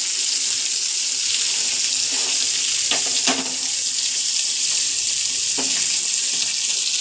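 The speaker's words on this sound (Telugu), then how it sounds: "మా అమ్మ ఇంకా చేపలు వేపుతుంది" Fish frying in a pan for a home dinner, giving a steady close hiss of sizzling oil with a few brief clatters partway through and no voices.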